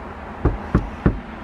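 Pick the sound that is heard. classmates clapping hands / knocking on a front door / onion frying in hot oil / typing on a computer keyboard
knocking on a front door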